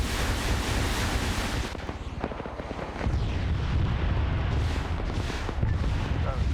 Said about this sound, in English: We do have a BTR in the field, though, firing at him.